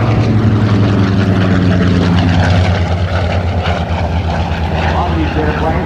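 Curtiss Helldiver propeller warplane at an air show, its piston engine droning loudly and steadily as it passes near, with a voice speaking beneath the roar.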